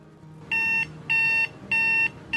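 A Travelwey LED alarm clock alarm sounds in a repeating series of bright electronic beep bursts, four evenly spaced pulses, close and loud over a faint background hum.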